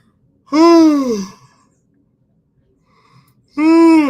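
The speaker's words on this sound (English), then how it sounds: "I'm just breathing, like, yawning a little bit" A person yawns and breathes, a long voiced yawn sliding downward, then quiet, then another yawn starting, close and loud.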